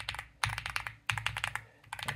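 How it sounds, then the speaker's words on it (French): Typing on an Epomaker X Feker Galaxy 80 mechanical keyboard fitted with high-pitched, very audible switches: quick bursts of crisp clacking keystrokes separated by short pauses, close and fairly quiet. "on va avoir vraiment un ressenti très aigu qui est très audible"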